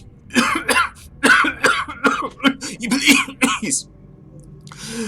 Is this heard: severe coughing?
yes